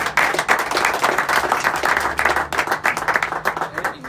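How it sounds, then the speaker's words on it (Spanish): Audience applause for boxers at a boxing weigh-in ceremony, dense sustained clapping from a crowd with faint voices underneath, steady and loud throughout. "Y un aplauso por favor para ellos."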